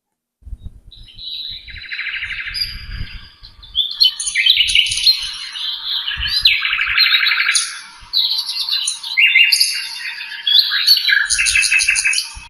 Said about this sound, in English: I also put something like a bird singing or something like that, birds chirping